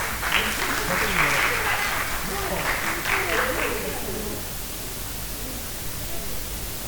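An audience at an awareness event on mining in Guinea gives a dense wash of applause for about four seconds, with faint voices mixed in, before it eases into a quieter room murmur.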